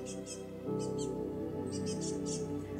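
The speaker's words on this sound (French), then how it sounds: "avec les oiseaux qui vous tournent autour en sifflotant." Small birds whistle and chirp in short, high bursts of two or three calls, soft and airy over a calm, low background hum.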